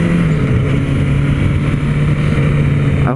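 Honda CB1000R Barracuda motorcycle engine on a test ride, a loud steady drone holding near-constant revs with wind rush, close and continuous.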